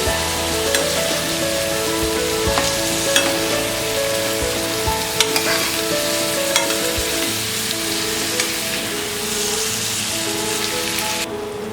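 A cauliflower and peas curry with spices is stirred and fried in a pan, a loud steady sizzle like rain on a surface, broken by sharp clicks and scrapes of a utensil against the pan.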